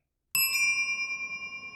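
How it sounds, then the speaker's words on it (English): A single bright sleigh bell strike rings out sharply and then fades slowly over a second or so, heard alone. "Pro tip on ringing a sleigh bell, or really any bell"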